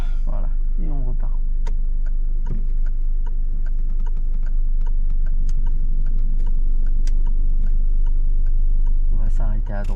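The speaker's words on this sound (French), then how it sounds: "Clignotant." A car's turn signal ticks steadily at an even rhythm inside the cabin during a driving lesson, close and clear over a low engine hum, with a voice speaking at the start and end.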